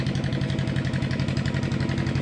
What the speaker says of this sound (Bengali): এখানে নিয়ে মালাই বোট যাচ্ছে